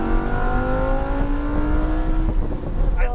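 A Lamborghini Huracan EVO on the Palm Beach International Speedway race track revs hard with a loud, rising, harmonic engine note. It sustains for a few seconds, then dips briefly near the end.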